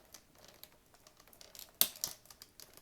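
Scissors cut plastic attachment tags off doll packaging: soft plastic ticks and light rustling lead into two sharp, close snips in quick succession.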